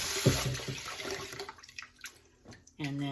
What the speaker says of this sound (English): rinse the quinoa